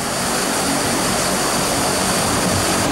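Steady, loud engine drone from a transport airplane flying at very high altitude while dropping operational parachutists, a continuous broadband roar with no pauses and no talk.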